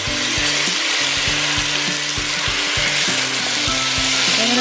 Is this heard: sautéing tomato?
yes